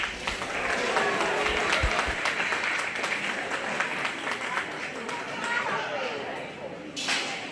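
Crowd applauding at a 4-H/FFA youth cattle show in an arena, a continuous, moderately loud patter of many hands with some scattered voices mixed in.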